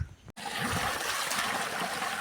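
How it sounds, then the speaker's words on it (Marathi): Irrigation water gushing into an okra field on a farm, a sudden start followed by a steady, full rushing flow close by. "आत्ता हे पाणी चालू झालं आहे"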